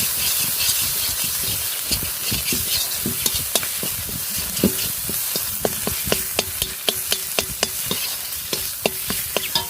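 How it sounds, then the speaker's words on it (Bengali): Chili and turmeric powder frying in a pan, a constant hiss and sizzle with repeated spatula scrapes that turn into a brisk series of regular knocks against the pan in the second half, close with no speech. "এটাকেও আমি একটু সময় কষিয়ে নিয়ে একটু জল দিয়ে দিই"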